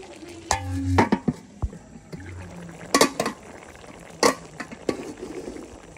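Moringa leaves go into a pot of boiling vegetables, with scattered clinks of a utensil against the pot, light rustles and bubbling in a home kitchen, a few sharp metallic taps standing out.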